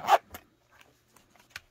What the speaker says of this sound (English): nylon zipper